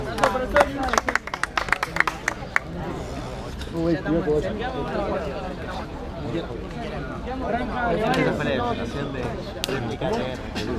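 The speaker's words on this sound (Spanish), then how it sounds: "Réplica entre Nevares y Reis. Aplauso." Audience applause at a freestyle rap battle, opening with sharp scattered claps that blend into a dense, steady crowd roar and murmur lasting throughout, fairly close and loud.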